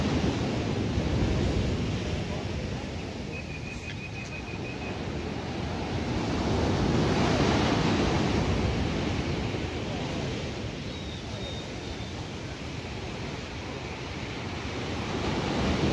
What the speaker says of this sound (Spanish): ¡Que vean esas olas!